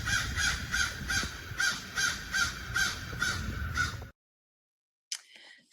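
Crows cawing in a steady run of harsh, evenly spaced calls at moderate distance, then abrupt silence before a brief faint rustle at the end.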